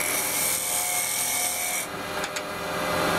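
A carbide cutter scrapes along the edge of a small wooden bowl spinning on a lathe, producing a steady, close rasping hiss with a couple of brief sharper catches near the end.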